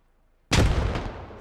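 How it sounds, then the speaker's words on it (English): A single grenade explosion in the military shooter Squad, a sudden loud, close blast after near silence, followed by a rumbling decay that fades over about a second. "Grenades going in."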